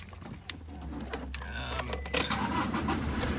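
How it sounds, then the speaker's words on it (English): A Toyota Hilux turbo diesel with a manual gearbox cranks and fires up, keys jingling first, then the engine catches around midway and settles into a steady low idle. "I'm just going to turn the car on."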